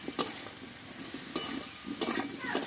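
Drumstick (sojne) stems stirred in a pan with turmeric and salt: a soft sizzle under a few sharp spatula scrapes and clicks at irregular intervals, close and fairly quiet.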